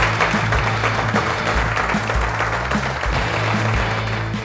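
Studio audience on a French cooking competition show applauds steadily, a dense, even burst of clapping for an arriving two-star chef, loud and continuous throughout.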